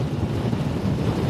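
Steady wind buffeting roars over a microphone on a moving Aprilia Tuareg 660 adventure motorcycle restricted for A2 licences, a constant dense rush with no talk.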